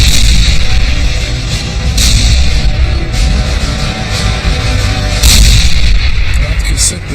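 Tank gunfire from a 1973 October War battle between Egyptian and Israeli armoured forces, a loud continuous roar of heavy firing with repeated sharp blasts and booms standing out throughout.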